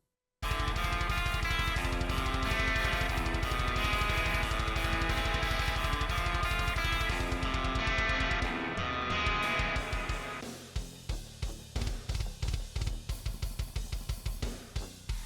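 Unprocessed heavy metal mix with raw DI guitars and unmixed drums, a dense, loud wall of thin buzzing guitar and pounding drums that drops to sparse, punchy hits with short decays near the end, no voices.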